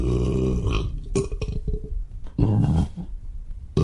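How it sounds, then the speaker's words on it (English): A man lets out several loud, deep, guttural burps in a row, close and raw, with brief pauses between them and no talking. "all the man burps that come out of you"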